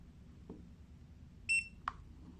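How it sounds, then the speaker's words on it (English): A short, high electronic beep sounds once from a Mata T2 tire pressure sensor display, clear against quiet background hum, bracketed by a soft click before and a brief tap after. "Now, I hold the right button until I hear a beep."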